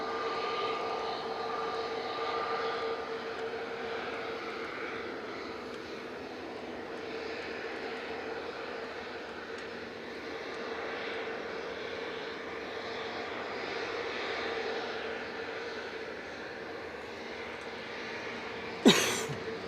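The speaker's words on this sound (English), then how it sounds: "EasyJet lining up next to go to Nice." An easyJet Airbus A320neo lines up and starts its takeoff roll at Manchester Airport bound for Nice, a sustained moderate engine roar with gentle swells, ending in a sharp close knock.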